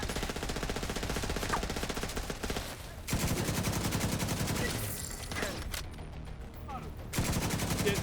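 Sustained light machine gun bursts rattle loudly in The Division 2, rapid continuous fire broken by brief pauses, with other gunfire and game sounds mixed in.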